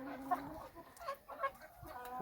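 Young roosters on a farm cluck softly in a few short, faint calls, somewhat distant, with a little background noise.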